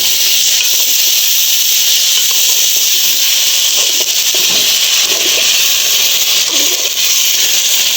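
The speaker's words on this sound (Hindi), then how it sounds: "और थोड़ा सा हम इसमें डालेंगे पानी।" Water added to hot ghee and melting sugar for flaxseed laddu bursts into a loud, steady steam hiss that sizzles on without pause, close up, with no voices over it.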